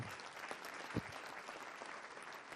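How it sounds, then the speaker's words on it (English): Audience applause at a tourism talk, a fairly faint, steady patter of many hands clapping throughout, with one louder thump near the start, heard from some distance. "Give this almost millennial"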